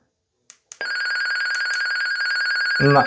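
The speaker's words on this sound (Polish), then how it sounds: "urządzenie nadaje nam taki sygnał, no, no, i w drugim urządzeniu ten sygnał jest słyszalny" After two soft button clicks, a Midland G9 Pro PMR walkie-talkie sends its call signal, a loud steady electronic ringing tone lasting about two seconds, close by and alone.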